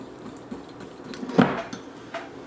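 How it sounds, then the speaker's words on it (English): Ingredients for a vegan seafood dish, sprinkled with dill weed, are whisked together in a bowl, giving soft, quiet scraping and light clinks of the whisk against the bowl, with one sharper knock partway through. "And simply whisk together."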